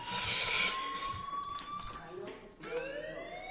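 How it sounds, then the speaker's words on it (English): A school fire alarm in the video game Life is Strange rings as a steady electronic tone with rising sweeps, continuous across the clip and mixed with voices and other game sounds. "Hey, do you hear that fire alarm? That means you should be outside."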